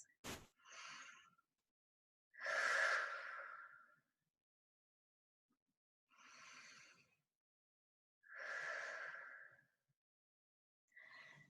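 Deep breaths taken while resting in child's pose during an upper-body fitness class: a series of slow, breathy exhales and inhales, each lasting about a second or two, separated by quiet pauses. No one speaks.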